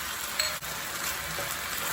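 Mushrooms sizzle in a hot pan for Indonesian-style chicken noodles, a steady, even hiss of frying that runs the whole time with no one talking.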